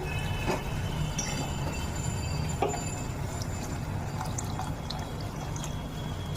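Hot water is poured into frying duck-egg curry masala, producing a steady hissing, bubbling rush with scattered drips and crackles, moderately loud and close, with no talking.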